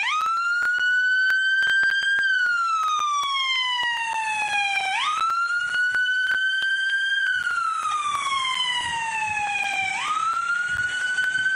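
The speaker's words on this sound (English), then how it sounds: "Oh, we got a double siren. It's a double siren." Two sirens wail together at the SpaceX Starship SN5 launch site in Boca Chica, Texas, in slow rising and falling sweeps, loud and steady, repeating in long cycles with no voices.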